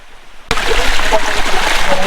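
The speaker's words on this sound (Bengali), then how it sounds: "আমার পিছনেই অসম্ভব সুন্দর একটি ঝর্ণা আপনারা দেখুন, অসাধারণ।" Napittachora waterfall on a forest trail bursts in after half a second of near silence as a loud, steady, broadband rush of falling water that continues unbroken to the end.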